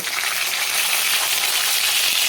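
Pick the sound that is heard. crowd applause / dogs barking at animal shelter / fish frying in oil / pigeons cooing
fish frying in oil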